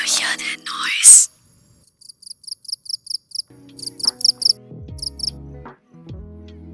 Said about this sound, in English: Male crickets make this chirping noise to attract mates, and they primarily do it at night to evade predators.